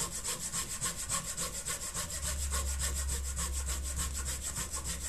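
A budget pruning saw cuts through wood in quick, even back-and-forth strokes, a close, rhythmic rasping with a low hum joining partway through.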